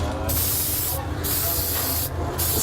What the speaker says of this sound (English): Spray glue onto all the surfaces we're sticking together